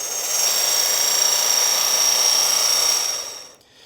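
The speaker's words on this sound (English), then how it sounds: "I will put the rake onto the handle of the grinder and I will let the rake actually eat into the buff." A rake dressing a fabric buffing wheel spinning on a grinder, set up for polishing an aluminum baseball bat, gives a steady loud whirring scrape that runs for a few seconds before winding down and stopping.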